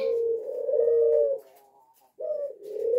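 Ringneck doves cooing close by, a soft drawn-out coo followed by a brief pause and a second coo, with no talking.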